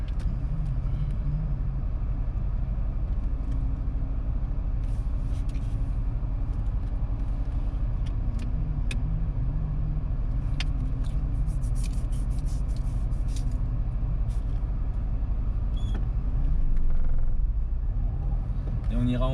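Low steady engine rumble of a learner driver's car coasting downhill in low gear, held back by engine braking, a constant drone inside the cabin with occasional faint clicks and a slight swell near the end.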